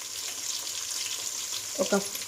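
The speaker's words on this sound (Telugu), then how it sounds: "ఆనియన్స్ని కూడా వేసుకుందాం" Chopped onions added to a hot pan while preparing chicken biryani, giving a steady soft sizzle with a few brief stirring clatters near the end.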